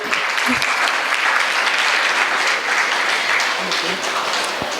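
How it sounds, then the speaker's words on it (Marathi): A crowd at an annual community gathering in Pune gives loud, sustained applause, a dense unbroken wash of clapping with no talk over it. "जोरदार टाळ्या होऊन जाऊ देत"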